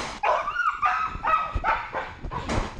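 A trained K-9 police dog barks and yips in close, loud bursts, several sharp barks mixed with whining.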